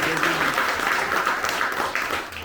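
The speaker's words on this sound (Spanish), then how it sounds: "Fuerte el aplauso a la palabra de nuestro Señor y Salvador Jesucristo." An audience at a Catholic retreat applauds, dense clapping that is moderately loud and steady throughout, with voices faintly mixed in.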